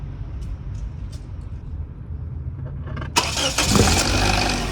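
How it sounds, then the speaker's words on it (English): A car with an air conditioning fault, showing code B1423, cranks and starts after a quiet stretch, then settles into a loud, steady running roar with a fan or blower sound. "I'm gonna turn on the car"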